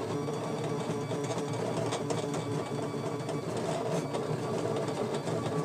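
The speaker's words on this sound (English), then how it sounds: "The machine is quite happy to carry on embossing your parchment for you." A Scan N Cut cutting machine embossing parchment on an embossing mat gives a steady mechanical whir and chatter with small rhythmic ticks, running on continuously with no talk.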